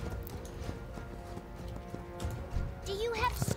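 Steady galloping hoofbeats of a horse mount in World of Warcraft: Shadowlands, up close and continuous, ending with a short whinny over ambient game sound.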